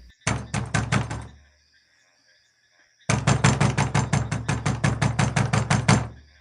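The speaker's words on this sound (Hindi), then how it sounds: "तब ही राजा कबीर ने दरवाजे पर दस्तक दी।" Knocking on a door in a children's animated story, two quick bursts of sharp, rapid wooden raps, the second run longer and more insistent after a short silence.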